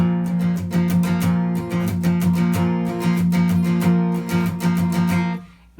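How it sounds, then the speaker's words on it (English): Rhythmic acoustic guitar strumming with dry, choked accents from left-hand muting, steady and close, with the final chord fading out at the end. "And then the left-hand muting is going to be squeezing and releasing."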